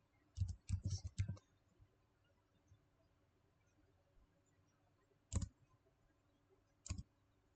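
Keys clatter on a computer keyboard as a network command is typed in Packet Tracer: a quick burst of several keystrokes at the start, then two isolated presses later, close by in an otherwise quiet room.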